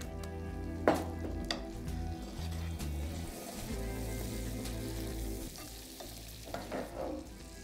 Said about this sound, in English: So I'm just going to add the butter. It's in cubes just to help it melt quickly.